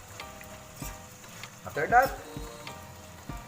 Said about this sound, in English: Okay, so just frying it a little.